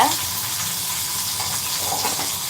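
Green and dried chillies with curry leaves fry in a pan, giving a steady, close sizzle and hiss that holds evenly throughout with no pauses.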